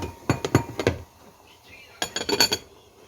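A metal lid set down onto a pot of kimchi bean sprout soup, giving clustered clinks and clatters in two bursts with a quiet pause between them.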